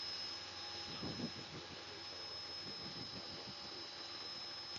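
A steady, loud turbine whine with a high tonal hum drones throughout, a helicopter engine heard from inside the cabin during touch-and-go at an airport.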